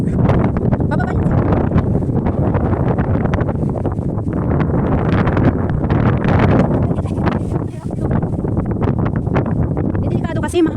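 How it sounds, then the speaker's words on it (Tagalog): Strong gusts of wind buffet the microphone on an exposed mountain hiking trail, producing a loud, continuous roar that barely eases, with voices talking faintly underneath. "Delikado kasi mahangin eh."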